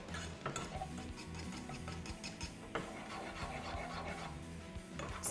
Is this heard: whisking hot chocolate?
yes